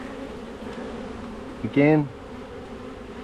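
Honeybees buzz steadily as a dense hum throughout a Langstroth hive inspection, with a brief louder, rising buzz as one bee passes close, and a single short spoken word.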